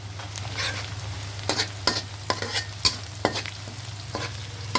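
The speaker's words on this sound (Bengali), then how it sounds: "এগুলোকে একটু ভেজে নেব।" Crushed cardamom and cloves fry in a pan with a steady close sizzle over a low hum, broken by several crisp spatula scrapes spaced a second or so apart.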